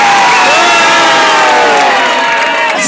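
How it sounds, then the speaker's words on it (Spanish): Studio audience at a Chica Vikiny 2023 pageant show cheers and applauds loudly for a contestant, a dense sustained roar of shouts and whoops close up, with no clear talk over it. "¡Aplausos para ella!"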